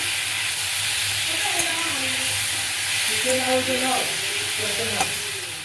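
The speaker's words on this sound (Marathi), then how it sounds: "कांदा टमाटा चांगला भाजून घ्यायचा छान असा हा मसाला भाजून घ्यायचा" Constant hissing sizzle of a thick onion and tomato masala roasting in a pan, with a faint voice murmuring underneath and an occasional clink.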